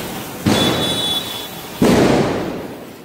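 Diwali firecrackers burst close by, two sharp loud bangs each followed by a long crackling, rumbling decay, with no talk.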